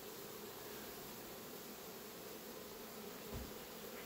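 Honey bees buzz steadily and faintly as they are let out into window colonies, a soft continuous hum with no voices, plus one brief low thump near the end.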